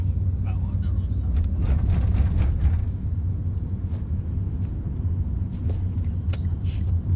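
Steady low rumble inside a moving car, constant road and engine drone with faint background sounds.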